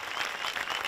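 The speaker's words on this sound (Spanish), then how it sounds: "Yo creo que merecen un fuertísimo aplauso" Applause from an audience for pole dancers at a pole dance show in San Roque, a dense steady patter of many hands clapping close by that fills the whole moment without a break.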